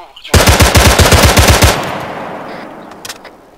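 Fast, loud machine-gun fire rattles in a single burst of roughly a dozen rounds in the Arma 3 military game, then trails off into a decaying echo.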